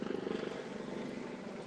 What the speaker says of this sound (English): I got a helicopter coming over.